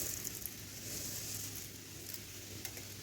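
Mung dal fries in a pan with a soft, steady sizzle that stays quiet and even throughout, plus a faint clink near the end.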